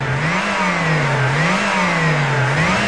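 Volkswagen Corrado G60 engine with G-Lader supercharger running steadily with the throttle held fully open, a loud continuous drone that rises and falls in slow, regular waves over three seconds.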